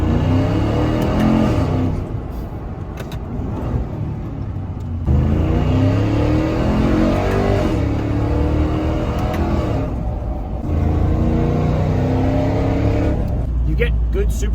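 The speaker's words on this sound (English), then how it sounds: "supercharger whine and good induction noise, which is really fun" A supercharged Ram TRX pickup with Valvetronic Designs universal mufflers drives and revs, a loud close engine drone with rising and falling pitch as it accelerates and shifts, someone talking over it.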